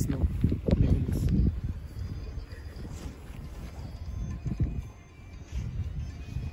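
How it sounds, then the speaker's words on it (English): Strong wind during a snowstorm in Canada buffets the microphone in heavy, irregular low rumbling gusts, loudest at the start and returning in waves. "It's too windy."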